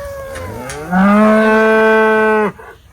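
A single loud, close cow moo during cattle loading on a farm, a long steady low call lasting over a second, with quiet surroundings before and after.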